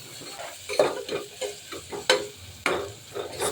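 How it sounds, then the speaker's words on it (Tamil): Tomatoes with turmeric and salt sautéing in a pan, a soft sizzle under repeated scraping stirs and a few sharp clinks of the spoon against the pan, close and unaccompanied. "தேவையான அளவு உப்பு நல்லா மிக்ஸ் பண்ணிவிட்டு ஒரு 2 நிமிஷம் தக்காளி நல்லா வதங்கட்டும்"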